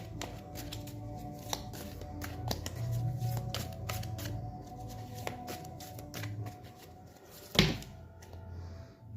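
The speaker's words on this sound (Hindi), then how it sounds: "ये बहुत ज़्यादा कार्ड होते हैं ना, तो इनको शफल करने में भी दिक्कत होती है बहुत ज़्यादा।" A large deck of tarot cards being shuffled by hand up close, with repeated papery riffles and card slaps in an uneven rhythm and one sharper knock near the end, no talking over it.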